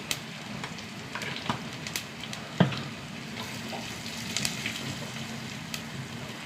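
Browned onions frying in a pan as turmeric powder goes in, giving a steady, moderate sizzle with a few sharp clicks and spatters throughout.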